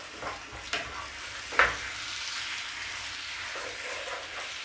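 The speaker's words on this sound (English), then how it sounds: "all we're doing at the moment is cooking with a paste" Curry paste for chicken dopiaza sizzling steadily in a pan, a continuous frying hiss broken by a few stirring scrapes and clicks, moderately loud and close with no talking.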